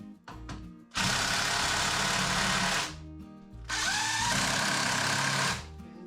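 A power drill drives screws back into a wooden workbench leg in two long, loud whirring bursts, each about two seconds, separated by a short pause, with light handling clicks before the first.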